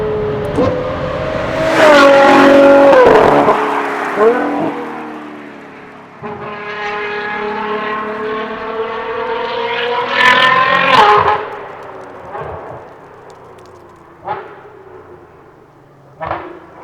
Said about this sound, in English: What's better in this time than a V12? Sunny weather, empty streets, and a Novitec exhaust system.